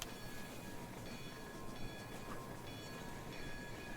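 A train rolls steadily past in Rolling Line, a model railway game, giving a continuous rumbling hum of wheels on track with faint high squeals, moderately loud and uninterrupted, with no talking.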